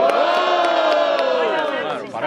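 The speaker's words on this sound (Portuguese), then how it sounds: "quem gostou das rimas do SB faz muito barulho" Loud crowd at a Brazilian freestyle rap battle roaring, cheering and whooping in one sustained burst of high-pitched shouting that dips briefly near the end before flaring again.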